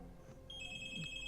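A telephone rings with a steady electronic tone that starts partway through and holds to the end, fairly clear over a low background hum.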